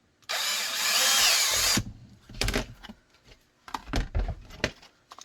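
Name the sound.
power drill drilling a hole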